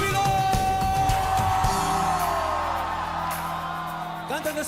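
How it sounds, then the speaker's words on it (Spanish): Church congregation at a Sunday worship service shouting and whooping for joy together, a loud sustained crowd roar that slowly fades, with organ or keyboard tones held underneath. "Ahora griten de júbilo."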